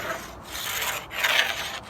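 Scraper rasping loose paint off old beadboard, close and dry, in a few short strokes with brief gaps between them.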